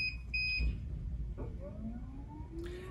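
A Prius Rhythm Turn mattress system sounds its power outage alarm: a few short, high electronic beeps at the start, then quiet room noise with faint rising tones, fairly soft and without speech.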